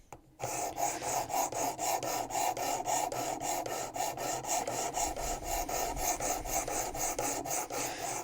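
A knife blade drawn over sharpening stones on a WorkSharp Precision Adjust makes a steady, rhythmic rasping of rapid, even strokes, close and continuous for several seconds without talk.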